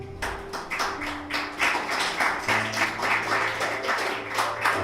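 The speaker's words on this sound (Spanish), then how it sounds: "Un aplauso al Señor." Church congregation applauding the Lord during a Spanish-language service, rhythmic clapping in time over a sustained musical tone and organ-like notes, close and fairly loud.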